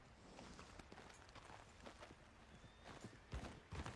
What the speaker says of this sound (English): I hear a horse, though.